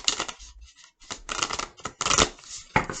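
Tarot cards shuffled by hand, a quick series of riffling and sliding bursts with brief pauses between them, close and alone.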